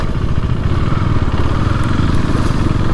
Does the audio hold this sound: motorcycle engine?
yes